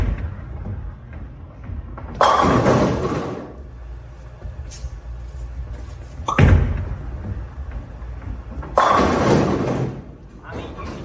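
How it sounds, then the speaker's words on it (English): A bowling ball strikes the pins on a lane, with loud crashing clatters about every few seconds, three main impacts with thuds between, and no clear talk over them. "See the way that ball goes through those pins."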